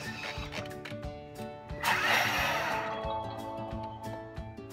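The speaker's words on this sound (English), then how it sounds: "we're going to pulverize and grind our cornmeal and oats" A Thermomix runs at speed 10, pulverizing cornmeal and oats into flour with a harsh whirring roar that swells and then settles into a steady grind, close by.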